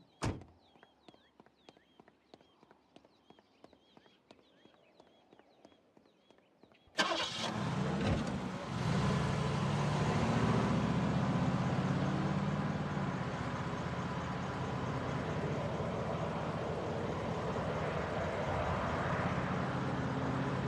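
A car in a Family Guy cartoon cranks with a rapid series of ticking starter pulses, then the engine catches with a sudden roar and holds a loud, steady rumble as it drives off.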